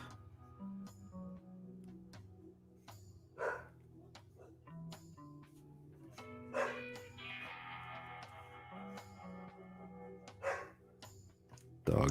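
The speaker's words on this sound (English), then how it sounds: "Dog is not happy about something going on outside." A dog reacting to something going on outside barks several times at irregular intervals, faint and somewhat distant, over a low steady indoor hum.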